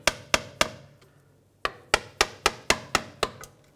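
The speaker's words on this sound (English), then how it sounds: "Give it a tap with a hammer." Hammer striking a steering rack boot clamp on a 2011-2018 Volkswagen Jetta: three sharp metallic taps, a pause, then a quicker run of about seven close, crisp hits.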